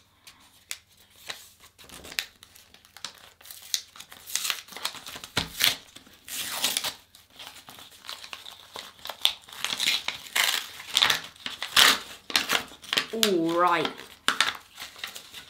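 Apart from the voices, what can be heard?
paper envelope of sticker cards being opened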